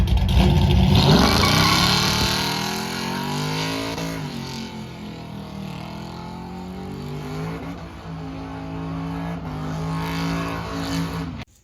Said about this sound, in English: I know he's here to burn some tires pretty good